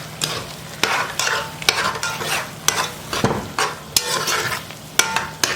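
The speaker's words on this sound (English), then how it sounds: "And let's give this a mix." Black beans with garlic stirred in a pot with a spoon, repeated scraping strokes at a steady rhythm over a faint sizzle, close and clear with no talking.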